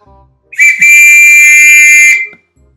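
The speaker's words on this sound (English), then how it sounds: "driver blew the whistle" A single loud, shrill train whistle sounds for over a second as one steady high-pitched blast, then stops abruptly.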